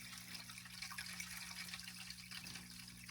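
Warm water pours and gushes steadily into a fish tank, a continuous splashing fill with a low pump hum running underneath throughout.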